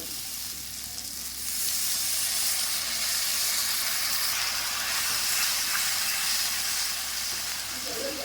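Okra masala sizzling and hissing in a pan after water is poured in, a steady loud frying hiss that swells after the first second and holds, with steam and no talk.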